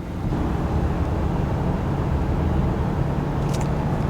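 A RAM 2500 pickup with a Cummins diesel engine accelerates, heard as a steady, broad rumble of engine and road noise inside the cab that holds at an even level throughout.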